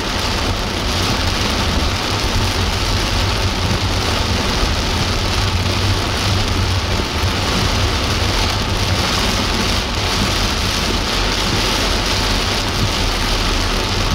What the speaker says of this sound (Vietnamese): Trời mưa to quá.